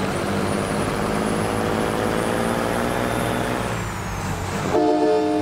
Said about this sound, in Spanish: Y ahí va un bocinazo.